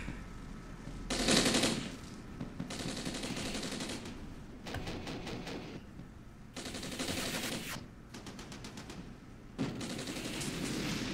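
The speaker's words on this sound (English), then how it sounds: "our guys are just firing non-stop" Troops fire in the war game Armored Brigade, with rapid machine-gun bursts and scattered rifle shots coming in clusters, fairly distant and faint, with no talking.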